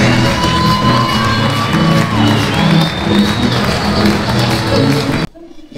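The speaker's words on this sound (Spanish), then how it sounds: "Ahí es donde la gente aplaude, la gente se empieza a animar." A large audience applauds, cheers and whoops at a comedy show during a European tour, loud and continuous, then breaks off abruptly near the end.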